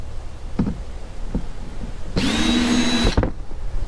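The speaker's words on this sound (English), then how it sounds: "Then take the drill" A power drill driving a screw into a Black Pak Pro, one short whirring burst of about a second after a few light knocks, close and fairly loud.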